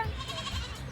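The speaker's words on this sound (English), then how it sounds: "you could hear them squealing and they sounded like babies crying" Goats bleating and squealing during a goat-catching challenge, a brief, close, loud cry with a wavering, crying tone.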